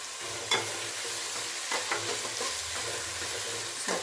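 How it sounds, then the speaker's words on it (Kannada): Mustard seeds, curry leaves and onion fry in hot oil for beetroot egg bhurji, giving a brief, close, steady sizzle with a few sharp pops and stirring scrapes. No one speaks. "ಸಾಸಿವೆ ಮತ್ತು ಕರ್ಬೇವಿನ ಸೊಪ್ಪು ಹಾಕ್ತೀನಿ"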